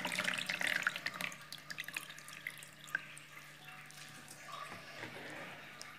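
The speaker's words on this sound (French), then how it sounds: "je fais comme ça pour enlever donc le surplus de l'eau et le mettre dans la couscoussière" Washed couscous is drained of its excess water by hand, giving soft splashes and trickling drips that are livelier at first and then settle into a faint, quieter flow.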